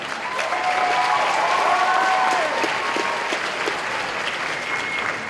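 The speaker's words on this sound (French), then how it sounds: "On applaudit bien fort." A large audience claps steadily and loudly throughout, a dense wash of applause with faint whistles and cheers mixed in.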